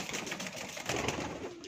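Ghamaggar pigeons cooing among a large group of game pigeons, a brief throaty burst of coos close by and fairly loud, with no talk.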